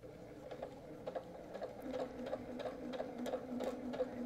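A sewing machine stitching quilt strips for quarter-square-triangle towels, heard as a quiet, regular ticking hum with even repeating clicks, close but soft.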